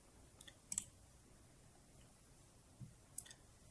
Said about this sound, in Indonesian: Lalu kita klik masuk sekarang.